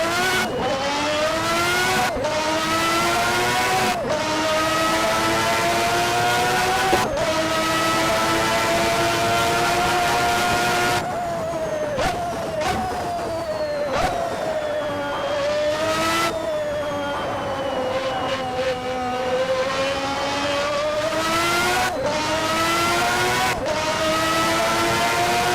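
A Formula 1 car in a racing video game screams around Suzuka, its loud high-revving engine running without a break and stepping up and down in pitch through repeated gear changes, with rising sweeps between shifts.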